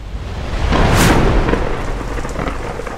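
A loud thunderstorm, with a deep rolling rumble of thunder swelling in the first second over steady heavy rain that continues throughout.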